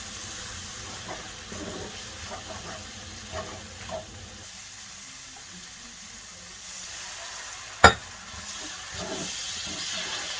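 Spices for a tuna pasta sauce cook in a pan with a faint, steady sizzle, broken by one sharp clack of a utensil near the end.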